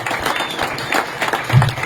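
Brief patter of applause from an audience at a Knights of Columbus clay shoot fundraiser for Special Olympics, scattered claps for the planning committee that rise and fade over under two seconds.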